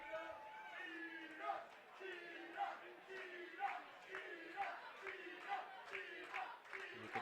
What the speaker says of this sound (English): You can hear the raucous crowd again from Watertown.